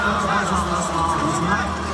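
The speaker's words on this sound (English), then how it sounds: "And we hear the crowd" A basketball arena crowd at a Taiwanese pro league game fills the space with a steady loud roar of chatter and cheering, a commentator's voice running over it.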